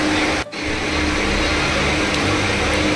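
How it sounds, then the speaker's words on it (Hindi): A small electric fan runs noisily and steadily at close range, a continuous whirring hum with a brief dip near the start, no talking over it. "ये छोटा सा पंखा इतना ज़्यादा आवाज़ कर रहा है"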